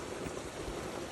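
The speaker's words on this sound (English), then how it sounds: "So we have a little water flow stream that runs." A small stream flows steadily with a soft, continuous rushing and trickling hiss, faint and alone, with no one speaking.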